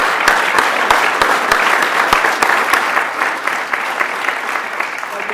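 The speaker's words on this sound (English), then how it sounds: "one more round of applause for you" Applause fills a conference room after a data management presentation, a dense patter of many hands clapping at close range, holding steady before thinning slightly toward the end.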